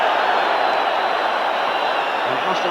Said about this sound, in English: Offside, well, the crowd don't like it.